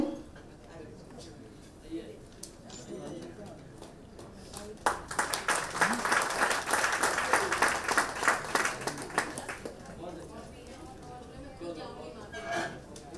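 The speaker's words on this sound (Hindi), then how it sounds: "बहुत जोरदार तालियों के साथ यशवी लोढ़ा एकल श्री हरि के साथ जुड़ना चाहती है" Audience applause at a Shri Hari satsang gathering with the Governor of Maharashtra present, swelling from quiet murmur into a burst of clapping that lasts several seconds before fading back.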